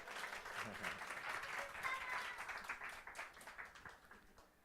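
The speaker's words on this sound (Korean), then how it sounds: "박수 한번 쳐주세요" Applause at a Sunday church gathering: a small crowd claps steadily for several seconds, moderately near, with voices mixed in.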